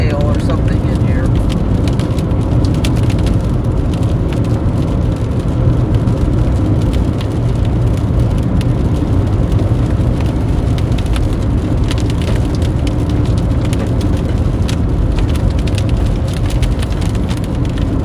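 Hail pounding a car during a Kansas storm: a dense, loud, continuous drumming of stones on the vehicle's body, steady throughout the clip.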